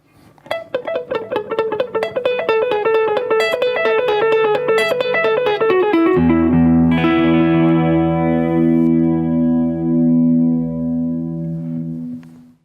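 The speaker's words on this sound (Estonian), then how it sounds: "Mulle endale on väga palju meeldinud selline efektipedaal nagu delay." Electric guitar through a delay effect pedal: a rapid run of picked notes with repeating echoes, then a sustained chord ringing out and slowly decaying, loud and without talk.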